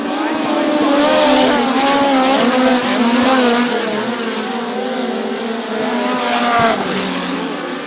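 Midget race cars roar around the dirt oval at Bubba Raceway Park during a POWRi National Midget League race, several engines wailing and shifting pitch together as the pack passes, loud and continuous, with an announcer talking over them.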